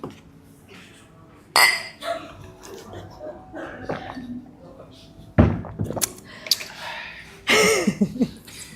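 Glasses clink together in a toast, a few bright, sharp chimes scattered between quieter clatter of dishes and cutlery, with people chatting indoors around them.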